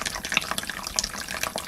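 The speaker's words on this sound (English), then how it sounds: "I like water samples." Looped water sample of tap-like running and splashing water, bright and continuous with small droplet plinks, played alone at a fairly loud level.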